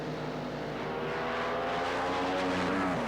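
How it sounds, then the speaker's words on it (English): Drag racing cars roar down the strip at the 1976 NHRA Gatornationals in Gainesville, Florida, a loud, sustained engine howl that stays steady for a few seconds with no voices over it. "And Bradley, smoke pouring out of the exhaust pipes as he crosses the finish line, but he takes the win."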